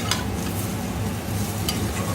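Potato fry being turned in a hot pan, a steady soft sizzle with faint scraping strokes of a spatula, close and continuous, no voices.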